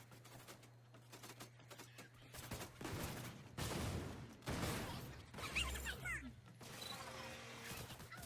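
Bandit gunfire in Borderlands 2, a scattered run of shots and mechanical clatter at moderate distance, with bursts and quieter gaps between them.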